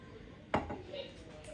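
A lid is set onto a cooking pot, a lamb stew left to simmer, giving a single close metallic clank followed by a short ringing, heard over low kitchen background noise.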